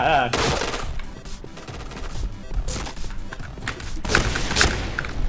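Gunfire in the online shooter Point Blank: dense, loud automatic bursts and rapid shots that run almost without pause, with Thai players shouting excitedly over the shooting.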